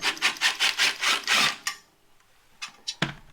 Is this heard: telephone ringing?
no